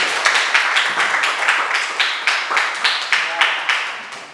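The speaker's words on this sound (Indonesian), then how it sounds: "tepuk tangan buat Mas." A classroom audience claps for a student in an Islamic education lesson, giving a quick series of sharp, evenly spaced claps at a brisk rhythm, close and fairly loud.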